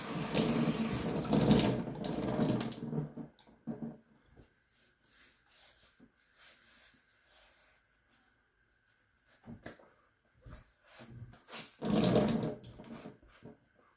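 A razor is rinsed under a running tap, with bursts of splashing water at the start and end and quieter dripping and handling sounds in between.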